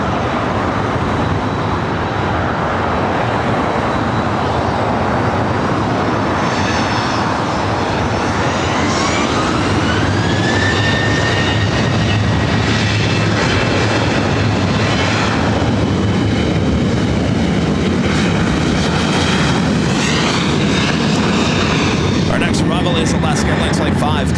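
A Boeing 767 jet departing LAX gives a loud, sustained engine roar across the whole stretch, with a rising whine partway through and radio chatter and talk over it.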